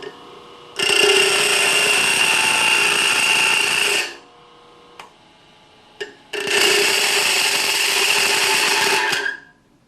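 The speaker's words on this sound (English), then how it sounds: "the big no-no with grinders is grinding aluminum" Aluminum is ground on a bench grinder stone in a machine shop: two long, loud bursts of harsh high-pitched grinding, separated by a quieter pause with the motor still humming and a couple of brief clicks.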